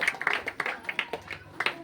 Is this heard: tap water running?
no